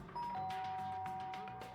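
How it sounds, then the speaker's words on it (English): A doorbell chime from the video game Danganronpa: Trigger Happy Havoc, a clear electronic ding-dong with sustained tones ringing out alone for under two seconds. "Ding dong."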